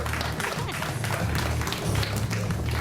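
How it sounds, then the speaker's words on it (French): Applause from a crowd at a 2020 municipal election campaign meeting in Rémire-Montjoly: steady, dense clapping that holds throughout at moderate loudness, with faint voices mixed underneath. "Je vous demande de l'applaudir."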